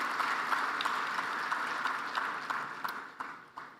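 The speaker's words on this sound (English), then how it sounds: "Can we give him a big round of applause?" Audience applause at an Africa energy summit, a broad sustained wash of many hands that fades and thins out toward the end with a few last scattered claps.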